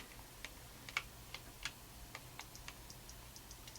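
An Apple Bluetooth Mighty Mouse gives a string of light, crisp clicks, some single and some in quick pairs, close and quiet against a faint background hiss with no talking.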